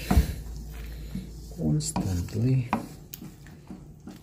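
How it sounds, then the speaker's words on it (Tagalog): A spoon stirs an egg-based dish in a cooking pot, scraping and clinking against the metal under light sizzling, with a voice talking over the stirring. "haluin lang po natin siya constantly"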